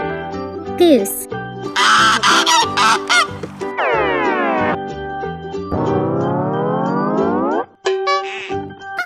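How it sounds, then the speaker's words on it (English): A goose honks loudly in a farm-animal sound sequence, choppy calls at the start followed by two long drawn-out honking cries, close and clear with no talk. "Goose."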